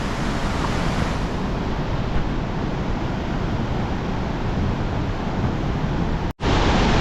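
Waterfall rapids in Laos make a loud, continuous broadband rush of churning water that holds steady throughout, with a very brief dropout near the end.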